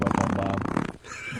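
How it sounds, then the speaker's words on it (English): A single loud, rippling fart lasting about a second, close and dry, followed by a short quieter pause. "God, farting is wonderful."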